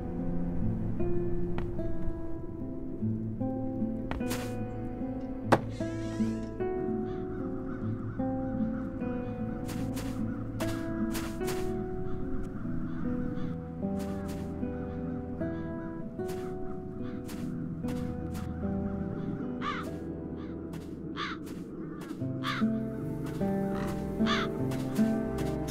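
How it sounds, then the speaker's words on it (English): Crows in The Dark Eye: Chains of Satinav give repeated harsh caws, several birds calling over one another in an irregular chorus against a low steady game ambience, with a few sharp clicks scattered through. "Now those ghastly crows only need to touch it."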